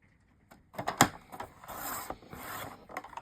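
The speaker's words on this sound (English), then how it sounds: "we can start by bringing our trimmer in, and I'm going to cut this to" Paper trimmer slicing through a sheet of craft card, a short scraping, rasping glide of the blade with a sharp click near the start, close and clear without talk.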